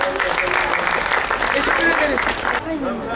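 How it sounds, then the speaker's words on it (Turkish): A theatre audience at a stage play claps together in a dense, sustained round of applause that fades slightly at the end, with a voice speaking over it. "Alkışlıyoruz bir daha."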